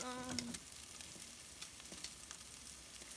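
Salmon patties fry in a pan with a soft, continuous close sizzle and light crackles, opening with a brief tonal beep before the frying carries on alone.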